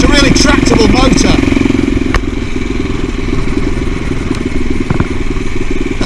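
A CCM Blackout motorcycle engine pulling steadily in top gear on the open road, a loud continuous throbbing drone with wind buffeting, while a rider talks over it at the start.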